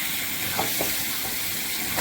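Chicken and potatoes with spices fry in a pan, a steady hiss and sizzle with a couple of soft stirring scrapes, no one speaking.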